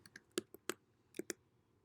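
Quiet, close typing on a computer keyboard: a handful of sharp, irregular key clicks over about two seconds, with no voices.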